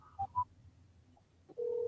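A cell phone call chirps with two short electronic beeps, goes quiet for a moment, and then settles into a steady, continuous tone, faint and thin with no voices.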